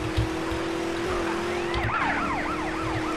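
A police siren in the video game GTA San Andreas wails steadily and then switches to a fast rising-and-falling yelp, loud and close over engine noise, with no talk.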